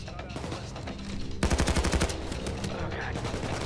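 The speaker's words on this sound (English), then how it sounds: "They're still shooting at us." Rapid bursts of gunfire from the video game Payday 2, a loud dense volley of shots breaking in after a quieter stretch and continuing as sustained automatic fire.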